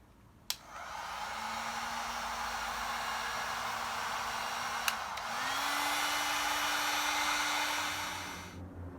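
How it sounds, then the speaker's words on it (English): A heat gun shrinking heat-shrink tubing on a permanent cable while wiring a sump pump, a steady blowing whir running for about eight seconds with a faint tonal hum, near and alone, with a click at start and end. "Now we're just heat gunning the permanent cable"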